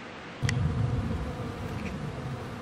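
Honeybees buzz around their hives outdoors in a steady, close drone that swells after a brief click and then holds at an even level, with no voices.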